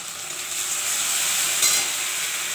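Cumin and coriander powder frying in a pan, a steady close sizzle and hiss that runs evenly throughout with a slight swell near the middle.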